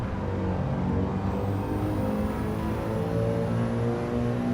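A race car in Gran Turismo 7, stuck in fifth gear, holds its engine at maximum revs in a loud, continuous high-pitched drone with no break.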